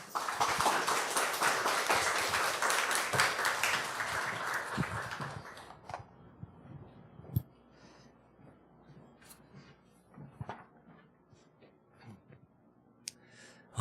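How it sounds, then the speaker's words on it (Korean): A church congregation breaks into loud applause that lasts several seconds, then fades into scattered claps and room noise. "여러분 큰 박수로 맞이해 주시기 바랍니다."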